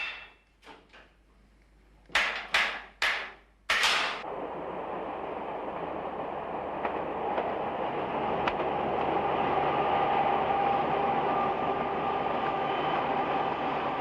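Trains of the Cévenol line depart a station, opening with a few sharp metallic clanks and knocks before a steady, growing rumble of rolling wheels and carriages settles in and continues.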